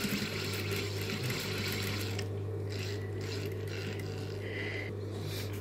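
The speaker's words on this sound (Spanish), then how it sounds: "Voy a hacer una costura recta con un pequeño atraque" A sewing machine runs a straight seam on a strap, a steady mechanical whir and rattle with a low motor hum underneath, heard close and continuous with no talk.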